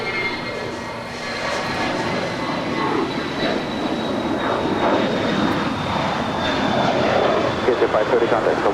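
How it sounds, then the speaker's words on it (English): A Korean Air Cargo Boeing 777 freighter, arriving from Lima, Peru, lands at Los Angeles airport with a steady loud jet roar and a thin high whine. Some background noise runs through the roar. "Korean Air Cargo 777 coming in from Lima"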